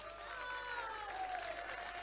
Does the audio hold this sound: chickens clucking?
no